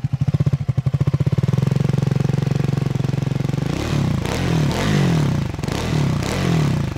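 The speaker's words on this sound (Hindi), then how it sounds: "ऐसा कुछ इसका एग्जॉस्ट नोट है।" A Triumph Scrambler 400X motorcycle revving, first a loud pulsing idle-like throb for several seconds, then repeated sharp throttle blips rising and falling close by, with no talk.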